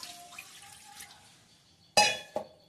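Water is poured into a pan for pineapple chutney, with a soft trickle at first. Then comes a sharp splash, followed by a second, smaller splash, both close and loud against a quiet kitchen.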